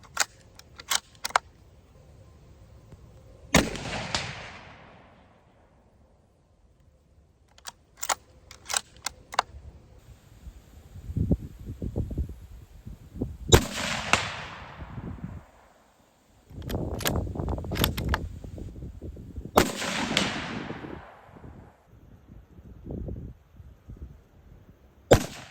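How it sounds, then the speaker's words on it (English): A CVA Cascade compact rifle with an 18-inch barrel fires at a range, several sharp cracks each followed by a long rolling echo, spaced well apart amid quieter handling clicks and rustles. "I'm gonna set up and shoot a little bit just because I enjoy shooting this thing."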